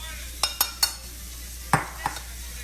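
Okra in olive oil in a skillet, heard as a few sharp stirring scrapes and clinks against the pan over a faint, steady sizzle, with no talking.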